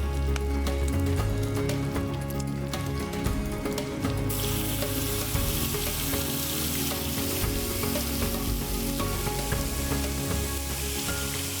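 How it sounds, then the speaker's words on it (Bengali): Black pepper and dried red chillies temper in hot oil with a dense, steady sizzle and crackle, close and loud, while music plays underneath. "এখানে একটু ফোড়ন দিচ্ছি পেঁয়াজের পেস্টটা দেওয়ার আগে। গোলমরিচ দিলাম, শুকনো লঙ্কা দিলাম।"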